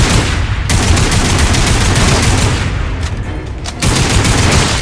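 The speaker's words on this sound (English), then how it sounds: "Some shooting there." Rapid, loud gunfire from a Lost Planet 3 battle rattles in dense continuous bursts, with only a few very short gaps in the shooting and no voices.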